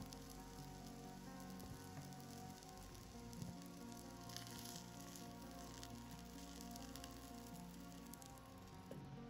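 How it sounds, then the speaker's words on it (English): A scallion pancake fries in a heated pan over low heat, giving off a soft, steady sizzle and crackle that stays even and fairly faint throughout. "fry the pancake on low heat for about 30 seconds"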